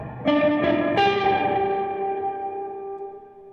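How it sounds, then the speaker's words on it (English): Overdriven electric guitar through EarthQuaker Devices pedals plays three quick rising notes, then a final chord rings out with a long, washy reverb tail that slowly fades. "this reverb's wild. It is. It gets a little more carried away than you'd think."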